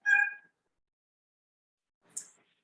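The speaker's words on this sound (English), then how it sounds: "That's my cat, Mojito." A pet cat named Mojito gives a short, clear meow, then after a silent pause a second fainter, higher chirp-like call, both close and isolated.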